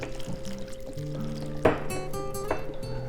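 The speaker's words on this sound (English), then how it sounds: "And we're gonna finish this with water also." Water poured from a container into a crock pot of split pea soup with ham, a close, steady stream that shifts in pitch with a splashy surge midway, a brief mumble of voice in the background.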